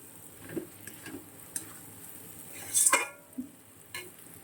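A vegetarian spice masala cooks in a pan with soft stirring scrapes and a low sizzle, and a sharper clink of utensil on metal stands out midway, all close and quiet with no talking.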